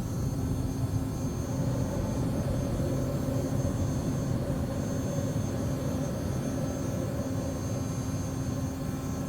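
Steady, loud jet engine roar from a Citation CJ4 climbing after takeoff in a flight simulator, a continuous drone with constant tonal hums throughout and no talking.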